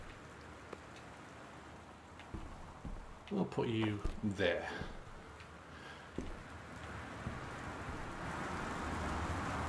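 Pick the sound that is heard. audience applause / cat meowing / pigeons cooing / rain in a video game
rain in a video game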